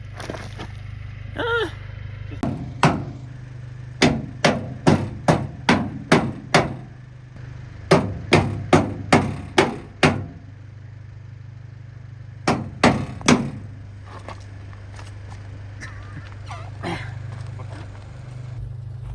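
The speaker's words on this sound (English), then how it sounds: "There he goes, hammering away at the corner of the bed." Sharp metallic hammer blows on the corner of a 2024 Chevy Colorado truck bed land in quick bursts of four to six strikes, separated by pauses, ringing out close and loud.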